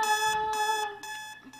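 An alarm clock rings in repeated short electronic bursts, steady and tonal with brief gaps between them, fairly close and alone without talk.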